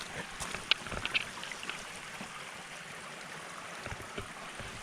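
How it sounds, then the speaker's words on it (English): A coastal stream runs beneath a small bridge with a steady, soft rushing wash, fairly quiet and continuous, with a couple of faint clicks near the start. "I love the sound of running water."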